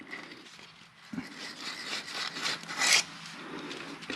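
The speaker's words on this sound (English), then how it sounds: "So I got some 120 grit sandpaper." Close rubbing and rasping of 120 grit sandpaper working a shifter bushing, an uneven scratchy friction that rises toward the end, heard alone without talk.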